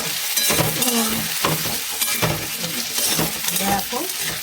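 Potato chunks fry in a pan of hot oil for a mushroom curry, giving a steady close sizzle broken by repeated stirring scrapes and clinks of a utensil against the pan.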